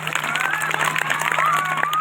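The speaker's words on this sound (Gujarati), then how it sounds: "એકવાર આ ટીમને તાળીઓના ગડગડાટથી બતાવો." Dense, steady clapping fills a large audience at an education expo in Dwarka, with a thin feedback-like whistle and a low electrical hum running through it.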